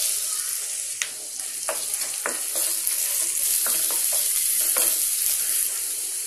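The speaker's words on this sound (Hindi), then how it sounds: "प्याज डाल देते हैं" Onions sizzle and crackle in hot oil in a pan with mustard seeds, cumin and ginger-garlic paste, a steady close frying hiss punctuated by stirring scrapes.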